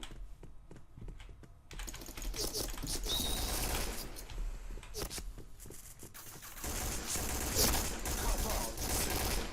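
Gatling gun firing in the shooter Point Blank, dense rapid bursts of loud gunfire that carry on over several seconds, with a player talking over it.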